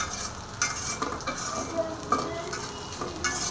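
Onions that have turned deep brown fry in a pan with a continuous sizzle, and a spatula stirs and scrapes them at close range in repeated irregular strokes.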